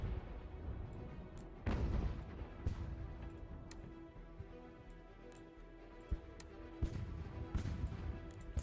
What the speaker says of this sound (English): Four regiments firing onto that one.